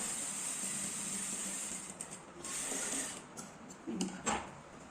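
A sewing machine runs a decorative flower stitch along an elastic nighty, giving a steady high mechanical whir with a few brief pauses and clicks near the end, heard up close and alone.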